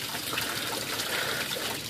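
Fresh flushing water runs and splashes out of the propeller of a Yamaha 250 HPDI outboard motor just after the garden hose is shut off, a steady close broadband gush and trickle with no speech.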